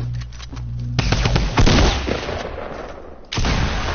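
Video game gunfire rips out in loud, rapid bursts that come in clusters with brief gaps between volleys.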